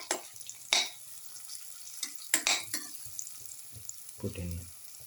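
Turmeric powder, curry leaves and salt sauté in a pan, heard as brisk stirring with sharp clinks of a utensil against the pan over a soft, intermittent sizzle, close up and without speech.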